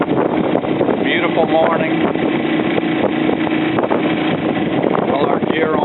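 A small outboard motor on a boat loaded with gear putters steadily along an Everglades waterway, a constant close drone mixed with wind buffeting the microphone, while someone speaks briefly.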